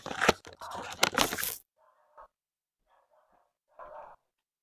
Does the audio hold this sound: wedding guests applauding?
no